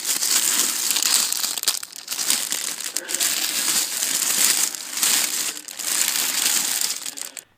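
Plastic LEGO polybags crinkle and rustle continuously as they are handled, with bursts of crushing and crackling close up and loud throughout.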